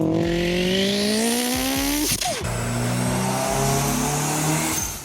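A voice imitates a K24-powered Honda S2000 engine, rising through revving pulls with a brief shift-like break around midway, then climbing again, loud and continuous with no talking.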